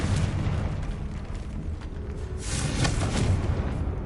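A Confringo blasting curse explodes in the wizarding game Hogwarts Legacy, a rumbling boom that swells in the second half over steady background game noise, with faint crackling bursts.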